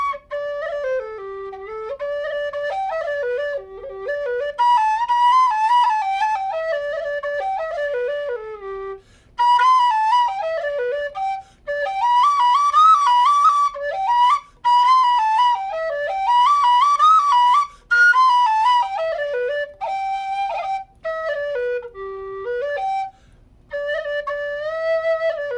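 A Goldfinch alto G tin whistle playing a melodic tune alone, clear breathy tones moving through phrases with short pauses between them, loud and close.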